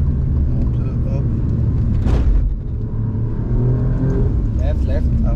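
An interior view of a car on a race circuit in the Emirates, its engine droning loudly and steadily as it speeds up, with a driver talking over the rumble.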